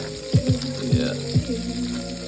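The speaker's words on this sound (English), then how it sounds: "That bacon almost done. Get nice and crispy. Yeah, popping and crispy, baby" Bacon crisps in a pan with a low, continuous sizzle, while a voice hums or murmurs over it in a few short bursts near the start.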